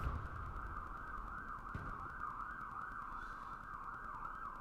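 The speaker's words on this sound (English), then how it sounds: "Apologies for the sirens in the background" Distant city siren outdoors, its undulating wail cycling steadily and faintly in the background for the whole stretch, with a brief click near the middle.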